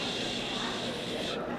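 Kidney bean Kiev frying in hot olive oil in a pan, a dense, steady sizzle and crackle heard close and continuous for a brief moment.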